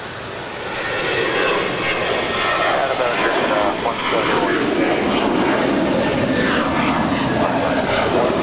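A passenger jet, an A319, takes off at Los Angeles International Airport, its engines building into a loud, broad roar that holds steady throughout, with a voice talking over it.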